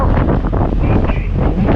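Strong wind at sea buffets the microphone on a fishing boat with a heavy, continuous rumble and rushing noise, like gusts out on open water.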